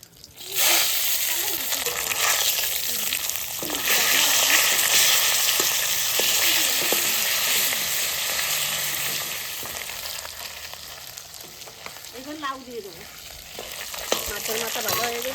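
Fish head with bay leaves frying in hot oil, a steady broadband sizzle running throughout at close range, with occasional stirring and spatter bursts and people talking over it.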